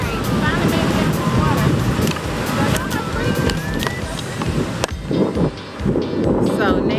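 Ocean surf and steady wind buffet the microphone on Daytona Beach, a continuous broadband wash of waves close by, with voices talking over it.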